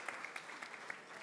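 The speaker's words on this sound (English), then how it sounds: "please give our honorable ministers a round of applause." Faint applause from an audience at a high-level African Union round table, a soft spattering of hands with a few sharper claps standing out, quiet and distant.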